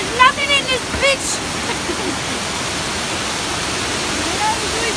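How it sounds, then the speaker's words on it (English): A large waterfall roars as a steady, dense wash of falling water close by, with brief voices and a few faint bird-like chirps near the start. "Big ass waterfall next to us."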